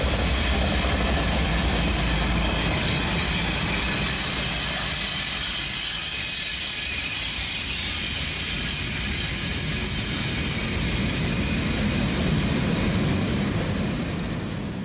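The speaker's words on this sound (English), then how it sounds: "The first DPU train I've ever seen on CSX." A long CSX freight train running with distributed power units rolls past as a continuous loud rumble and wheel roar, with a high metallic squeal and steady noise throughout, no voices.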